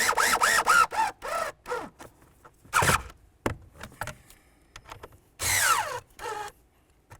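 A power drill drives screws into plastic while a heater blower motor is installed in a 2005-2010 Chevrolet Cobalt, its short loud whirring bursts separated by pauses and clicks.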